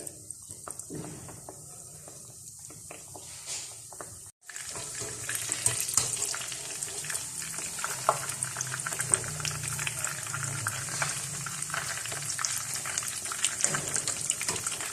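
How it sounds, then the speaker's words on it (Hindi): Donuts frying in hot oil, a steady bubbling hiss that starts quiet and grows louder after a brief break, then continues evenly and close up with no talking. "तो फिर आप इनको तलना शुरू करें"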